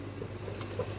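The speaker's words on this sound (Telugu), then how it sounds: "బియ్యం వేసి లైట్గా ఒక 2 మినిట్స్ వేయించాలి." Raw rice lightly frying and being stirred in a pan for tomato rice, giving a soft, steady sizzle with a couple of faint scraping stirs over one second.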